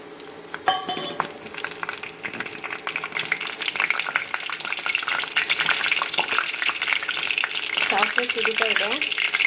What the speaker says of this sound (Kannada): ಸಾಸಿವೆ ಸಿಡಿತಾ ಇದೆ